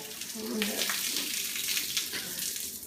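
Shaken soda fizzing and hissing as it foams over, a steady broadband rush of bubbling that runs loud and continuous throughout, with a faint voice underneath.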